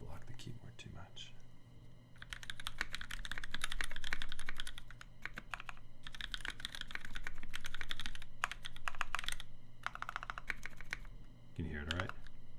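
Steady typing on a Switch Couture TKL keyboard fitted with NovelKey Cream switches, with bursts of dense clacking keystrokes separated by pauses and a soft voice heard briefly.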